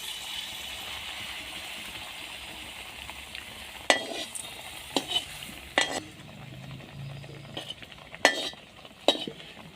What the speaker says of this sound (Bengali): এখন এগুলোকে তেলে ভেজে নেব।